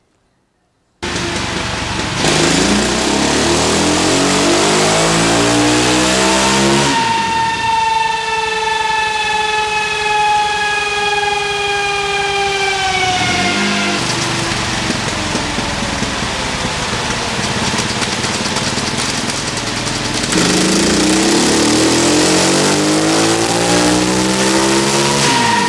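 Engine with dual carburetors starts up and is revved, the loud roar sweeping up and down in pitch as the throttle is opened and released, close by and continuous, without speech.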